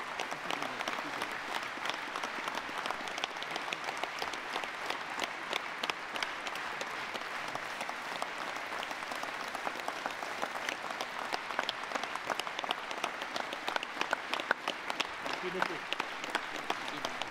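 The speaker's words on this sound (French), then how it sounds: "Vous pouvez les applaudir encore plus fort." A crowd applauds at a gathering of mayors, a long dense run of clapping that holds steady for many seconds, with a little rhythmic unison clapping and faint voices in the background.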